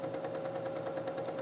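A sewing machine stitches a lap zipper, running at a steady, fast, faint whir with a regular rapid needle ticking and a constant motor hum.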